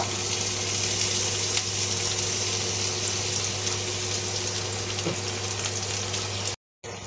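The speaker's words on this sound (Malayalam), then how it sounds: "നമ്മുടെ സ്റ്റവ് കത്തിച്ചിട്ട് അതിലേക്ക് ഉള്ളിലേക്ക് ഇട്ട് കൊടുത്തിട്ടുണ്ട് നമുക്ക് കുറച്ച് വെളിച്ചെണ്ണ ഒഴിച്ച് കൊടുക്കാം" Onions frying in coconut oil on a lit stove give a steady, close hiss with a low constant hum underneath, ending in a sudden brief silence.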